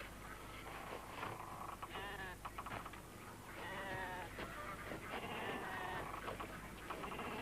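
Several sheep bleating repeatedly over a noisy, rumbling background, the calls overlapping at moderate distance.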